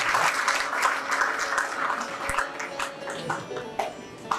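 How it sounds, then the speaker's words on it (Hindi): Audience applause at an international honours ceremony, steady and dense clapping from a large crowd, close and sustained at an even level with a few sharper claps standing out. "ताली बजा करके एक बार सम्मान करें।"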